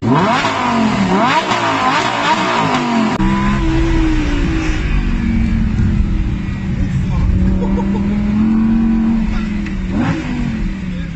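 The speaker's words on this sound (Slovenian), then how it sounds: "gledam krog z Lamborghinijem" A Lamborghini Huracan engine roars close by while driving, rising and falling through revs in a loud, sustained drone, with a voice talking over it early on.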